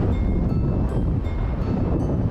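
Strong gusts of roughly 50 miles per hour batter the microphone on a forested mountain top, a dense, continuous roar of wind buffeting that stays loud and unbroken with no voices.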